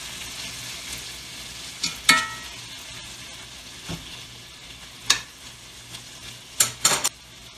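Shrimp frying in garlic butter in a pan, a low steady sizzle under several sharp spatula clinks and scrapes against the pan, close and clear, with no voices.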